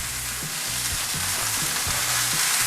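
Pot roast meat browning in a pot on a stove turned all the way up, a steady loud sizzle and frying hiss filling the whole stretch, with a few low clunks of stirring or shifting along the way.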